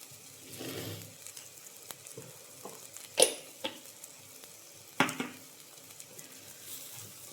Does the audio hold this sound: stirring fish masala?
yes